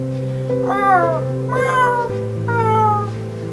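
A cat meows three times in drawn-out, pitch-bending cries over a steady musical drone, close and clear.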